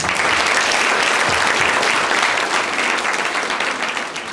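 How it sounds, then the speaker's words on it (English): Sustained, dense applause from a large audience at a Model United Nations closing ceremony, loud and even throughout before tapering slightly at the end. "can we please get a round of applause to all?"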